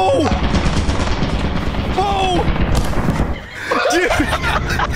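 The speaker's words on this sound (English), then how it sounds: "There's so many turrets in there." Turret gunfire in the video game Lethal Company: dense, sustained automatic bursts crackling continuously over five seconds, loud and close, with a brief dip near the end before firing resumes, and excited voices talking over it.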